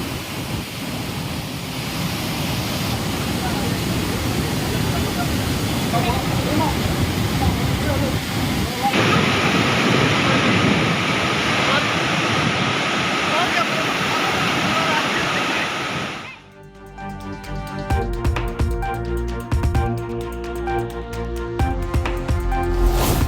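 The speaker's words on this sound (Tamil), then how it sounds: "மெயின் அருவி பழைய குற்றால அருவிகளில் கடும் வெள்ளப்பெருக்கு" Heavy flood water roars down the main falls at Courtallam after torrential rain, a loud, dense, continuous rush that swells midway, then gives way to music in the final seconds.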